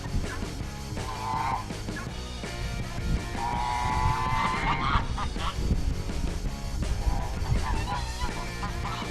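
Geese honk repeatedly from a farmyard beside an old, long-parked International Scout truck, their calls loud and clustered, rising and falling in bursts over steady background noise.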